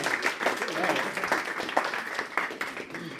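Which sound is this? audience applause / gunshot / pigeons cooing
audience applause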